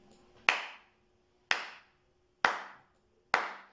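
Four sharp hand claps, evenly spaced about a second apart like quarter notes, each crisp and close with a short ringing decay into near silence between them.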